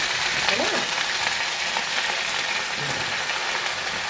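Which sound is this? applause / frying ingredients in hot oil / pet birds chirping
frying ingredients in hot oil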